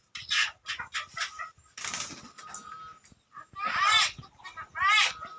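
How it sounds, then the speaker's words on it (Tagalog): Pet Martinez birds kept at home call in short repeated bursts of squawks and chattering cries, close by, with pauses between calls and a person's voice briefly in between. "Ito yung mga ibon ko, mga kapakpak."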